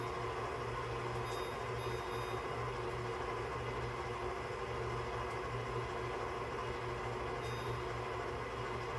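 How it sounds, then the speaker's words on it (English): A kitchen timer being set while baking a carrot cake gives a few short, faint beeps over a steady background hum. "And let's set a timer."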